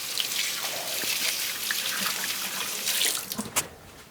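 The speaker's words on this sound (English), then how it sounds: "Wait, I'm going to go wash my hands." Hands are washed under a running sink tap, a steady rushing stream of water with splashing and dripping throughout, close and fairly loud.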